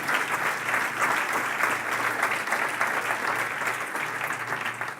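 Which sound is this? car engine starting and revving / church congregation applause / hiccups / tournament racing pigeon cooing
church congregation applause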